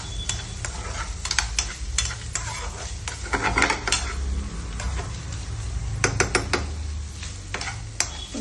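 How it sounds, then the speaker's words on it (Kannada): Paneer fried in butter is stirred in a pan, a spoon clinking and scraping repeatedly against the metal over a soft, steady sizzle, with no one talking. "ಆಮೇಲೆ ಪನೀರನ್ನ ಹಾಕೊಳ್ಳೋಣ ಇದರಲ್ಲಿ. ಒಂಚೂರು ಬಟ್ರಲ್ಲಿ ಇದರನ್ನ ಚೆನ್ನಾಗಿ ಹುರ್ಕೋಬೇಕು."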